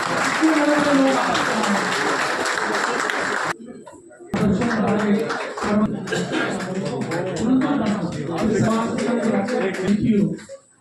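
Guests at a Brahmin community bride-and-groom introduction gathering applaud as a guest is called to the stage, clapping loud and continuous, briefly dropping away midway before resuming, with voices and a PA over it.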